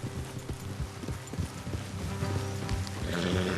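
Horse hooves clip-clopping at a walking pace in Red Dead Redemption 2, a steady rhythm of soft thuds with a faint whinny, set against outdoor ambience with game music or noise swelling near the end.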